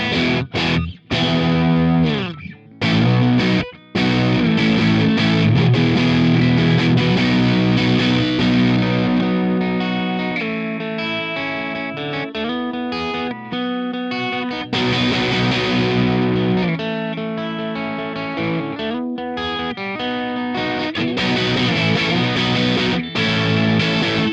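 Distorted Telecaster electric guitar through an AC30-style amp playing chords and riffs, bright and crunchy with some effects, loud and continuous with brief pauses near the start.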